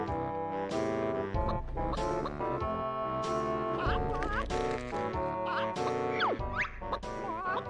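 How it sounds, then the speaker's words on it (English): Heggy the hen from the video game Banjo-Tooie gives cartoonish quacking calls over a dense, constantly playing game music track, the squawks brief and repeated across the stretch. "Quack, watch Heggy hatch."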